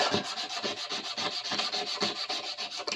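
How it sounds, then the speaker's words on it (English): Old hand files have their flats sanded in brisk, rhythmic back-and-forth strokes, a close, loud abrasive rasping that repeats about three times a second with no talking. "We don't want to sand the teeth off them after all."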